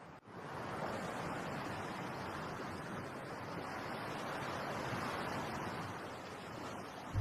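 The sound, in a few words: sea waves breaking on the shore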